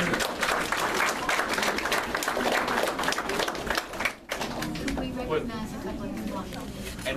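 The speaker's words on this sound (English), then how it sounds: "I think we ought to give them both a good round of applause for what all they do" At an art show awards gathering, a roomful of people give a round of applause, a thick, continuous patter of clapping that thins after a brief dip, with voices talking beneath it.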